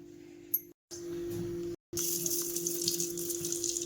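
Plain water being poured into a masala spice mix for stuffing whole brinjals: a steady, close trickle of running water with two brief cuts, and no voices.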